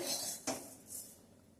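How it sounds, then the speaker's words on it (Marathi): Roasted sesame seeds being transferred into a bowl: a soft rustling pour opens the clip, then a single light clink of a utensil against the bowl, quiet and close. "आता तीळ माझे भाजले गेलेत मी हे एका बाउलमध्ये काढून ठेवते"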